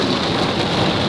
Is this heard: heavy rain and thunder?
yes